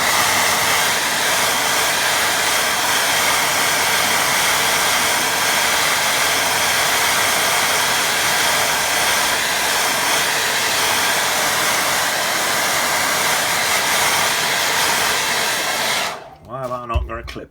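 A hair dryer blowing steadily to dry a watercolour painting, a loud constant whooshing rush held for about sixteen seconds before it cuts off abruptly, leaving a brief quiet rustle.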